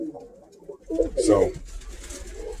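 Pigeons coo in a loft, a short burst of soft throaty calls in the middle, with someone talking around them.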